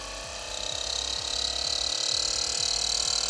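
Electric HVAC blower fan spinning up from about 2000 RPM, a steady whooshing airflow with a bright high whine that grows louder within seconds, alongside faint rhythmic clicking.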